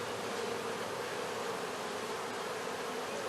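Honeybees buzzing around an opened hive during a varroa mite check, a dense, even, continuous hum of many insects filling the air close up with no pauses.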